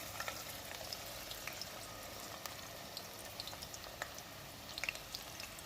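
Onions frying in hot ghee in a pan, a faint steady sizzle with light crackles throughout.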